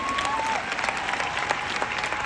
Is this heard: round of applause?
yes